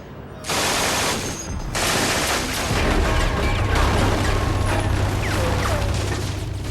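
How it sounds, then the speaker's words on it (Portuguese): An MG-42 machine gun fires in loud, close, ripping bursts so rapid the individual shots blur together, followed by sustained harsh noise. "A MG-42 é tão rápida que não se pode ouvir seus tiros individuais."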